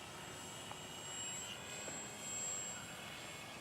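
A model airplane's motors in flight give a steady, distant high whine and drone that swells gently twice, faint and continuous with no talking.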